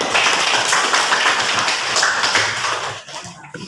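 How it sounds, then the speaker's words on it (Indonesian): A classroom audience applauds a student group after their presentation, a dense burst of clapping that runs for a few seconds and then fades out. "Kita beri aplaus untuk kelompok 5 dulu"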